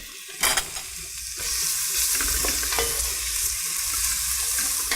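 Onion and fennel bulb stir-fry in a warm pan over gentle heat, a steady close sizzle with scraping spatula strokes and soft clatter throughout, no voices.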